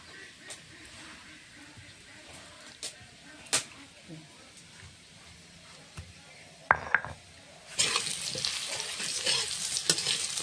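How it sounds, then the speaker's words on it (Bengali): Quiet frying of potatoes and taro in a pan with occasional stirring clinks, then a louder burst of sizzling toward the end. "আলু কচুটা ভালো করে ভাজা হয়ে গেছে"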